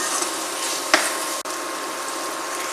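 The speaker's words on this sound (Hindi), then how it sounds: "अब हम प्याज को भून लेंगे" Onions and peas fry in a hot pan for bread upma, giving a steady, loud, close sizzle and crackle throughout, with a brief clatter near the start and no voices.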